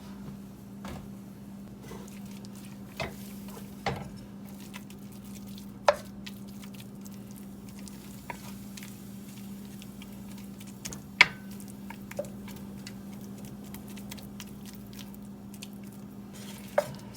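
Pork fat renders into lard in a pan under a low steady hum of cooking, with sparse soft pops, drips and occasional utensil scrapes from stirring, quiet and close.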